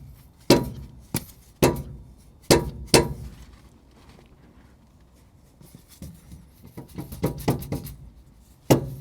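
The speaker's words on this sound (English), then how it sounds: "We'll go ahead and grab our dead blow hammer" Sharp, solid taps of a dead blow hammer on metal while fitting front shock absorbers on a GM pickup truck, a few spaced strikes, then a lull with shuffling, and more taps toward the end.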